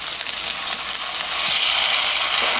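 Jjajang sauce sizzles loudly in a hot pan as a spoonful of oyster sauce goes in after sugar has browned, a steady close frying hiss that swells slightly partway through, with no voices.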